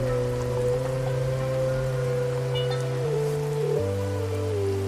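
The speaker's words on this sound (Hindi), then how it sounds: "कमरे में कुछ देर तक सिर्फ लगातार होती बारिश की आवाज गूंजती रही।" Steady rain hiss falls continuously beneath sustained low musical tones, with no talking.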